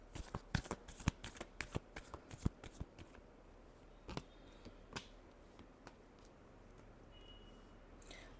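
Tarot cards are shuffled close by in a quick run of crisp flicks and riffles, then a few sparse taps and slides as the deck settles, quiet and without talk.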